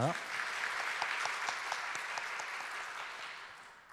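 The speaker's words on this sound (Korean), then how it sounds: "우리 큐티하는 청소년 이다민 향해서 큰 박수 부탁드립니다" A church congregation at an all-member devotional sharing event applauds a middle-school youth group student, steady many-handed clapping with crisp individual claps, a voice briefly at the start, fading slightly toward the end.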